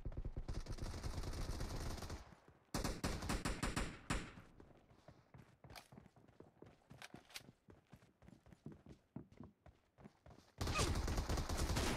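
Gunfire in PUBG, a long stretch of sharp, irregular cracks and thumps of varying loudness, framed by loud broadband bursts at the start and end.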